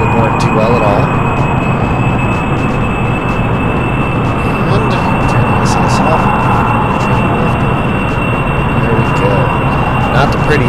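A player-built aircraft's engine in Kerbal Space Program roars loudly and steadily during a runway takeoff, with a constant high whine above the dense rumble.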